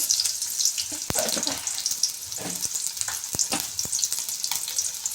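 Chopped onion and mustard seeds fry in hot oil for a coriander rice dish, a steady close sizzle with crackling pops and sharp seed spatters, occasional stirring scrapes, no talking.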